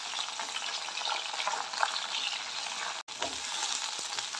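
Okra (bhindi) fries in hot oil in a kadhai, giving a loud, steady sizzling hiss that runs continuously, broken only by one very brief gap near the end.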